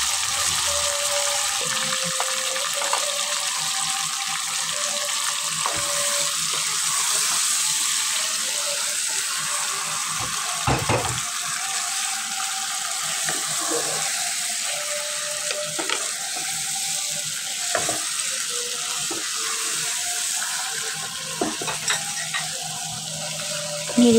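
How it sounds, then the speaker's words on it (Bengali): Marinated meat sizzles and fries steadily in hot oil in a home kitchen, a continuous close hiss with occasional scrapes and clicks of stirring throughout. "তেল গরম হয়ে গেছে, এখন এতে মাখানো মাংসটা দিয়ে দিব।"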